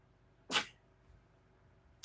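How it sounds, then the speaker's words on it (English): A single sharp sneeze bursts out near the mic, followed by quiet, then the start of another abrupt burst at the very end. "there goes the sneezing"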